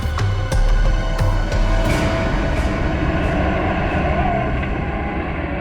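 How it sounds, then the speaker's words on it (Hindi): A heavy truck rumbles loudly and steadily through a forest with deep engine drone and rattling clanks, close by and continuous. "ट्रक की आवाज? ट्रक जंगल में?"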